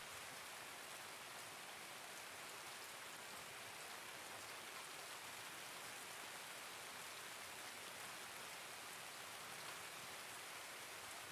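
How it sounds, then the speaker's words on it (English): Heavy rain pours steadily in the video game Escape from Tarkov. It is a dense, even hiss of downpour with no breaks, fairly quiet and constant throughout, with no voices. "Looks like, or sounds like it's going to be downpouring"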